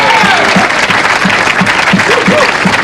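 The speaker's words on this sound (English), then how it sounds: "The Swede coming to pick up his bowling ball, clapping that strike from Thompson" Applause at a 1992 tenpin bowling match for a strike, with a crowd clapping loudly and continuously in a dense wash, plus a faint voice or two underneath.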